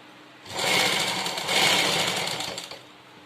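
A sewing machine stitches the piping onto a garment's neck or sleeve edge, a steady whirring run in two close bursts of about a second each, alone without talk.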